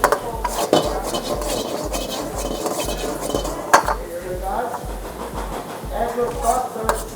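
Pad Thai with shrimp is stir-fried in a pan with chili flakes, producing constant metallic scraping and clinking of a utensil against the pan under a soft sizzle, with brief speech in the background.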